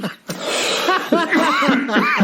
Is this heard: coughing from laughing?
yes